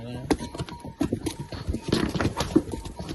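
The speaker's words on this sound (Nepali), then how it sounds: "यहाँ घोडाहरू पनि रहेछ नि गाइस। यता पनि आउँदैछन्।" Horses in Ghandruk village walk past with irregular clip-clop hoof falls on hard ground, close and fairly loud, while people talk nearby.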